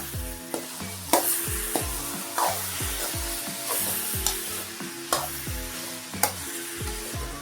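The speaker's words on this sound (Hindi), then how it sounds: "मैंने देसी घी डाला है इसमें और इसको चला देंगे।" Grated carrot halwa stirred in desi ghee in a pan over high heat, a steady sizzle with repeated scraping strokes of the spoon and occasional sharp clinks against the pan, close and clear.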